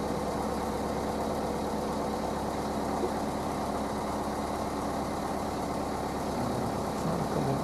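Canal narrowboat engine running steadily behind on the water, a continuous low diesel chug and drone, fairly close and loud throughout with no talk.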